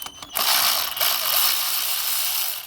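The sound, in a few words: Hyper Tough cordless ratchet removing a bolt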